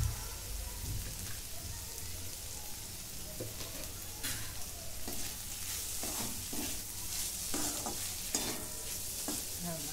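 Ivy gourd stir-fry with ground peanut powder is stirred in a pan. A steady soft sizzle runs under repeated scraping and clattering strokes of the spoon, close up, with no one talking.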